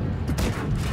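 A tank gun in World of Tanks Blitz lets off a single heavy boom up close, followed by a short rumbling tail.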